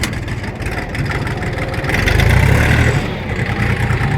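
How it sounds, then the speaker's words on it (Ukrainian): A Kentavr 244SX Chinese mini tractor engine runs steadily in third gear during a break-in test, a close, loud diesel rumble that swells slightly midway and holds on, without speech. "О, ну третя трошки шумніше е, буде."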